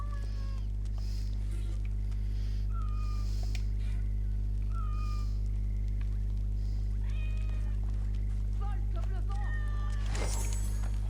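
Several cats meow in Assassin's Creed Origins, short clear mews repeating every second or two above a loud, constant low hum of game ambience, with a brief louder burst near the end.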